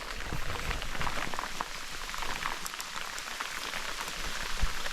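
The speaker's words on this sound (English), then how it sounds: "Now the rain started" Steady rain patters densely on a surface, a continuous close hiss of drops with no voices.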